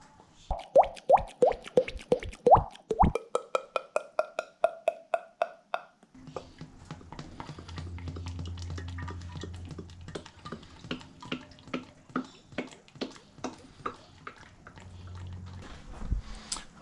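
Engine oil poured from a bottle into a Honda Civic engine during a home service: a quick run of loud, rhythmic glugging plops, then a steadier bubbling pour with irregular gurgles nearby.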